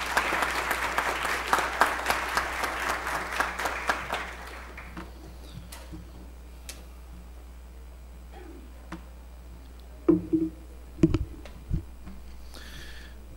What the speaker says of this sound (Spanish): Por favor, recibamos con fuertes palmas al doctor Echaíz Moreno.